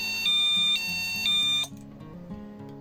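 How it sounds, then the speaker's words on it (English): A loud electronic alarm from an Arduino flame detector sounds alone as repeated two-tone beeps, about three pulses in regular rhythm, then cuts off, leaving a low hum. "an audible and visual alarm will be activated"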